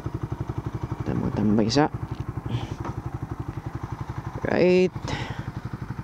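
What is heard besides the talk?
motorcycle engine during a ride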